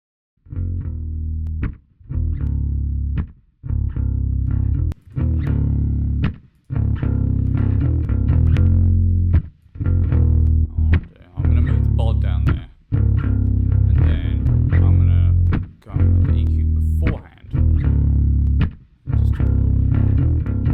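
A distorted guitar riff with a chorus-like sheen, played in short repeated phrases with brief gaps between them, loud and up front.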